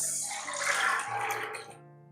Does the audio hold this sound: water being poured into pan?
yes